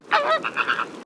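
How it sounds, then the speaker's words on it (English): A flamingo gives one honking, goose-like call of about a second, nasal and wavering, loud and close with no other sound. "Flamingo."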